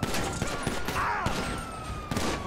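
Gunshots in GTA 5 ring out as sharp, separate cracks scattered across a busy street scene, with a few loud hits standing out against a steady background clatter.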